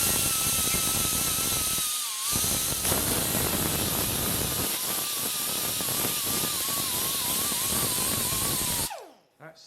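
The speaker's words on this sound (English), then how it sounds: "I can go straight to this angle grinder here" An angle grinder grinds steadily on the metal of a rusted Mercedes W109/W108 rear door, a loud continuous high whine that dips briefly once and then cuts off as the tool spins down.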